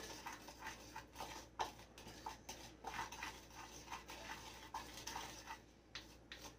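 A spoon scrapes and clinks steadily against a crockpot while stirring a chicken and mushroom mixture, repeated soft taps and wet shuffling sounds at close range with no talking.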